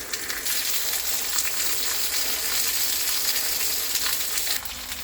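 Bison ribeye steak cooking in a pan inside a tent in freezing cold, giving a loud, steady hiss of searing fat that holds evenly for several seconds, up close with no voices.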